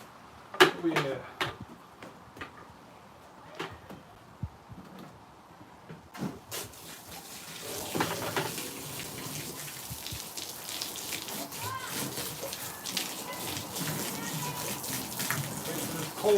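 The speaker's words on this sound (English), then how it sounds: "Put some clean water in it." Cold tap water runs into a bucket in a steady splashing rush that builds and fills the second half, preceded by scattered clanks and handling knocks.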